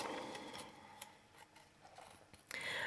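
Several quiet, crisp snips of sharp paper snips cutting through cardstock, spaced irregularly with a louder rustle at the end.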